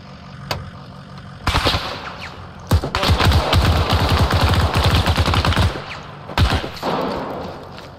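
Automatic weapons chatter in Arma 3 during an ambush on a US Army patrol: a long, loud burst of rapid fire with heavy thumps, then a pause and a few more sharp shots.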